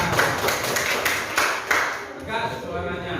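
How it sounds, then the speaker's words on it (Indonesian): Brief applause from a classroom audience, several short bursts of clapping with voices mixed in, fairly near and moderately loud. "Tepuk tangan."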